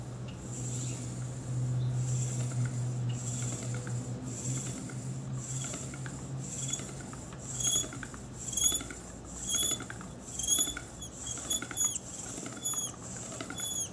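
A pump drill for making a fire ember spins up and down, giving a rhythmic series of soft whirring, whooshing pulses that grow louder and more regular, each stroke repeating about once a second, close by.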